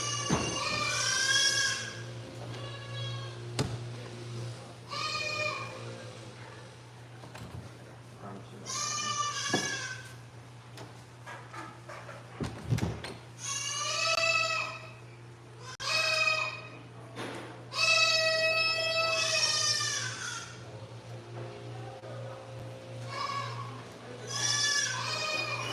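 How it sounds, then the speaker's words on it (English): Goats and sheep bleating together in a noisy cacophony, repeated wavering calls overlapping in irregular bursts over a steady low hum, some near and loud, others softer. "You can hear the cacophony of goats and sheep."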